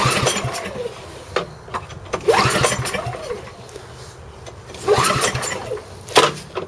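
A snow blower engine is cranked twice with a pull-start and fails to catch, each attempt a rising rasp of turning over that dies away, separated by quiet pauses.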